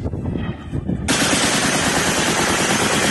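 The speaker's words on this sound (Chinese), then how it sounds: "乌克兰士兵捍卫自家天空，机枪频频作响" Ukrainian soldiers fire a machine gun during an air raid, a sudden loud sustained burst of rapid automatic fire erupting after a second of quieter background and continuing to the end.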